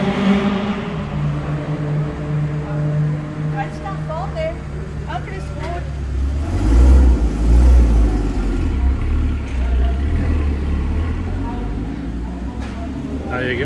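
Cars roll out onto the track at a Spa-Francorchamps trackday, with several engines droning and revving nearby, one swelling louder midway, while people talk over the steady motor noise.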